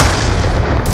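A concussion grenade going off in Call of Duty Black Ops 2, heard as a loud, dense, booming burst that fills the whole second without letting up.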